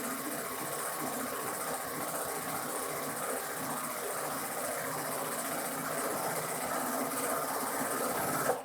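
A Baby Lock Euphoria sewing machine quilting runs with a steady, fast mechanical hum and needle rattle, continuous and moderately close, stopping abruptly at the end.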